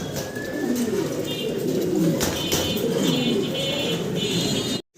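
Running pigeons coo steadily in a close, dense chorus, soft low burbling calls layered continuously from start to finish, with faint higher chirps above.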